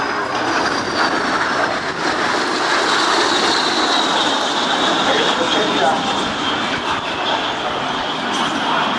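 L-39 Albatross jet pitching up to land at the 2008 NAS Oceana airshow, with a loud, continuous broadband turbine roar and a slowly falling whine, steady and close, and no talk.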